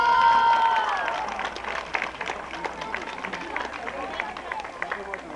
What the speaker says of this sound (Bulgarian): аплодисменти за него